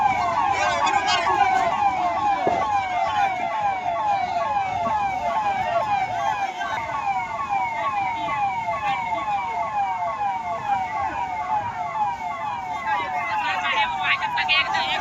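A loud wailing fire engine siren with rapid rising and falling sweeps, continuous for the whole stretch over rumbling traffic noise, as fire crews fight a blaze among tents at the Maha Kumbh.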